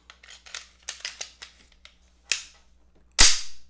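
Metal parts of an FN 509 pistol click and snap together during reassembly, a run of sharp close clicks followed by two louder snaps near the end.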